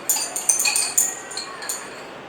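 A glass rod stirs a solution in glassware, tapping and clinking against the sides in a quick run of light, bright clicks, fairly faint.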